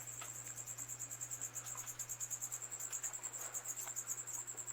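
A single cricket chirps in a fast, steady pulsing trill, high-pitched and continuous against a quiet background with a faint low hum, in a reptile room.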